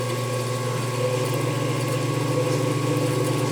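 The 850 RPM drive motor of a Yates American B244 hums as it spins up. A steady, loud mechanical drone with a low tonal whine runs continuously and alone.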